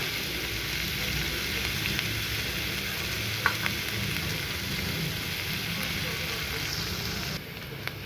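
Onions sizzling steadily in a pan for torai (ridge gourd) sabzi, a continuous close, even frying hiss with a couple of faint clicks and the sound dipping slightly near the end.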